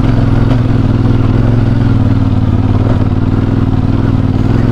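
A CFmoto 450MT off-road motorcycle rides up Mount Banahaw, its engine a loud, close, steady drone with constant rumbling chatter and no voices.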